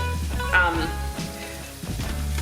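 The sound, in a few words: chopped garlic sizzling in pan for marinara sauce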